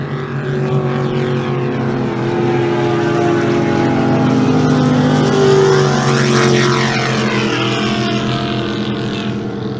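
Race cars at the Parker endurance race, a loud engine roar swelling as a car passes by close with a pitch sweep, then fading, over continuous engine noise.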